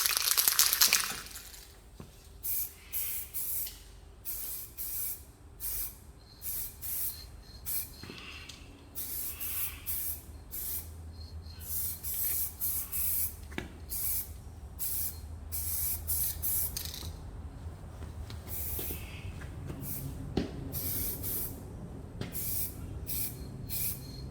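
Bursts of spray coating hit a wooden hatchet handle, each a close hissing spray of about a second. They come in a regular on-off rhythm and turn into longer continuous passes later. No talk.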